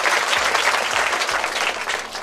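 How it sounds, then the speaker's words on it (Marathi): Schoolroom audience clapping for a student, a dense, loud burst of applause sustained evenly throughout, close and without talk. "टाळ्या वाजवा या पुरीसाठी"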